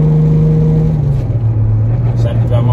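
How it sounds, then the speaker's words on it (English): A car drives along a road on the way home from work, its engine hum steady and close with a gear-change drop in pitch near the start, while a person talks over it. "Decided to drive my own car to work today."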